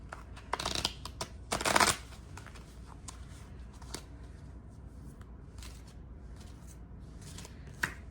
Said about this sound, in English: these cards are just not wanting to be shuffled today